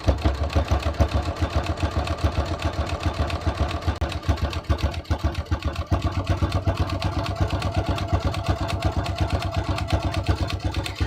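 A sewing machine runs a triple zigzag stitch through denim jeans, a steady rapid mechanical clatter of needle strokes that continues without pause and sounds close.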